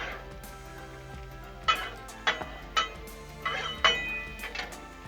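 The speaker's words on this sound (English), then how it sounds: "Give our broccoli another little stir here." A spatula stirs broccoli across a Blackstone flat-top griddle beside peppers, giving a run of sharp metallic scrapes and clinks, some bunched close together, over a steady background sizzle.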